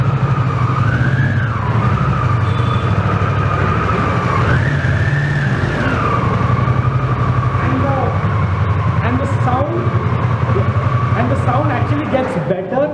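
A Harley-Davidson Pan America motorcycle engine revs loud and close, its pitch rising and falling in a couple of swells before settling into a steady drone, with a person talking over it toward the end.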